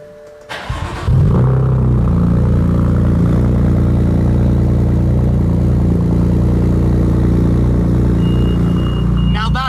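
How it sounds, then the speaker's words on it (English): AC Schnitzer ACL2, a BMW 2 Series fitted with a 570hp M4 engine, fires up with a sharp starter burst and settles into a loud, deep, steady rumble close by, with a car alarm chirping faintly near the end. "So much of a rumble, we have set off the alarm on another car, but it sounds like a violent kind of angry beast."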